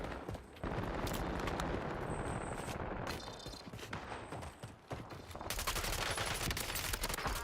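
Sustained automatic gunfire in Warzone, dense rapid bursts of shots crackling close and loud, with brief pauses between volleys and a renewed long burst near the end.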